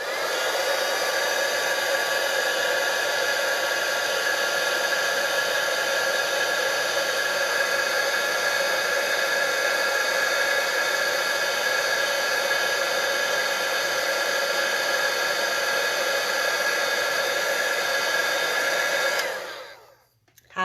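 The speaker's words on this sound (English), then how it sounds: "Now I'll grab my heat gun here, and we're going to melt this." A heat gun runs steadily at close range, melting material with a loud, even whooshing roar that holds for about nineteen seconds and then cuts off.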